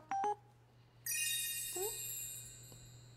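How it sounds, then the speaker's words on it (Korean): Mobile phone message alert tone: a short two-note beep followed by a bright, ringing chime melody that sustains and slowly fades, clear and close over a low background hum. "문자 왔쇼."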